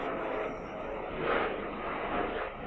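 Steady roar of a helicopter overhead, swelling slightly in the middle, with no one speaking.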